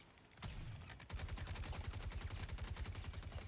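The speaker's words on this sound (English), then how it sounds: "Bullets flying over my head." Gunfire in a video game, a sharp burst followed by a rapid, sustained run of automatic shots in a steady rhythm, fairly faint and heard alone.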